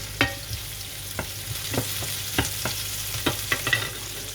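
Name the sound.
onions frying and being stirred in pan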